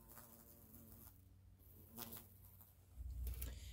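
Bumblebees buzzing as they fly off a hand, a faint, close, wavering drone that swells briefly in the middle and rises again toward the end, with no talk.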